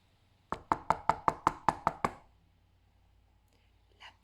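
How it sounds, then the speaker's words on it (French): Eight quick even knocks on a door, sharp and close, in a steady rhythm. After them there is near silence, with only faint rustling at the end. "Loup décida de toquer."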